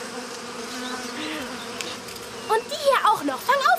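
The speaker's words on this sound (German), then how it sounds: "die Bienen, mach schnell!" Bees from a children's animated series about a little polar bear and a brown bear, buzzing steadily through the clip, with someone speaking over the buzz toward the end.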